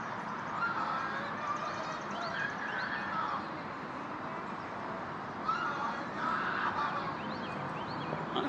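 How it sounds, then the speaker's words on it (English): Distant birds squawk and screech in two agitated bursts over a steady noisy background, harsh calls rising and falling. "Those birds freaked out."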